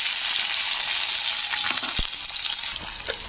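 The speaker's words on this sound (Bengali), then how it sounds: "তো পেঁয়াজটা দিয়ে একটু ভেজে নেব" Chopped onion fries in hot oil after the spices have been tempered, giving a loud, continuous hiss with brief stirring scrapes and one sharp clink near the middle.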